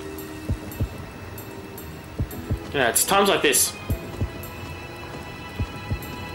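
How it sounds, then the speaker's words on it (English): A muffled, regular heartbeat thumps in paired low pulses in The Legend of Zelda: Skyward Sword, continuing softly beneath a man's speech and a brief chiming game effect. "Can I hear a heartbeat just then?"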